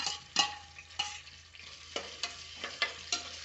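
Capsicum frying in hot oil with onion and tomato, stirred in a pan: a series of sharp spatula scrapes and clacks, roughly every half second, over a faint continuous sizzle, close and fairly quiet.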